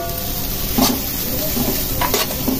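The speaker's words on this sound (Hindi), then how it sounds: "ये देखिए प्याज को अच्छे से भूनना है" Onions dry-roast in a kadhai with no oil, with a soft hiss under repeated scraping and stirring strokes of a spatula against the metal pan, heard close up.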